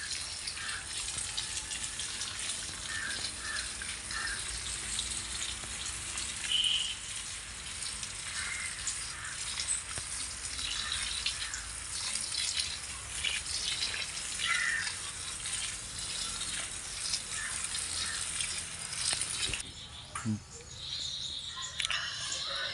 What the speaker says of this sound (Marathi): आता मी व्यवस्थित पाणी देणार आहे त्यांना